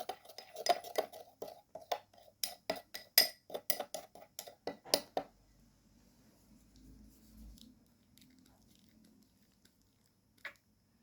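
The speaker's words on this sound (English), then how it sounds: "add around 1 teaspoon of baking soda and mix well the dry ingredients" Baking soda being mixed into dry ingredients in a bowl: about five seconds of rhythmic taps and scrapes, then near silence with one faint knock at the end.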